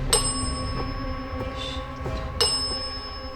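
A bell in an allegedly haunted mansion rings repeatedly, sharp bright strikes at the start and near the end with fainter taps between, all over a constant low hum of the room.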